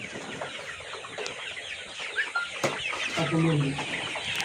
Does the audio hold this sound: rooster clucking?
yes